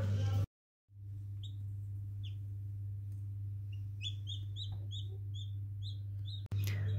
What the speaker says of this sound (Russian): Ну что, у нас вылупился малыш.